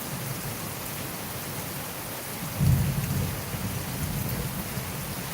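Steady rain patters during a thunderstorm in Chattanooga, Tennessee, with a low rumble of thunder rolling in midway and fading slowly, no talking.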